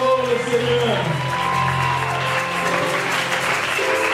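A church congregation at a victory celebration service claps and cheers in a warm, continuous burst of applause, with voices calling out over the clapping.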